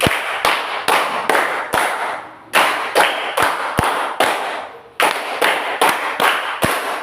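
A group of schoolchildren in a physical education lesson claps five quick beats three times over. Each set of five sharp, loud, close claps is separated by a short pause, and no one speaks.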